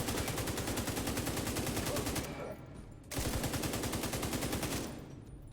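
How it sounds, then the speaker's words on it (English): Light machine gun in the shooter The Division 2 fires long sustained bursts of rapid rounds, a brief pause, then another extended burst, loud and continuous. "at this range, I prefer using the good old light machine gun"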